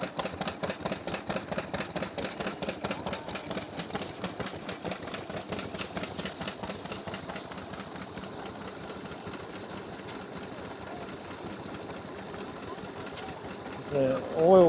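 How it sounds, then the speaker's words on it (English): An Australian Ronalds and Tippett Type G vintage stationary engine runs at a rally, a rapid steady chugging beat close by that softens slightly midway, with a voice speaking over it. "Another Australian engine. It's a Ronalds and Tippett Type G."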